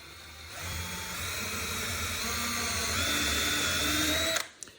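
A power drill with a countersink bit whines steadily for a few seconds at close range, grinding into hard white oak, then winds down abruptly.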